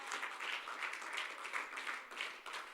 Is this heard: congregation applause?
yes